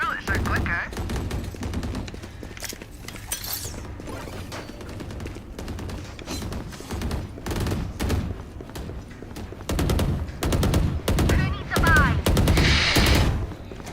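Rapid video-game gunfire in a last-player-standing battle royale match, dense bursts of automatic shots and sharp single cracks stacked close together, loud and continuous, with thumps mixed in.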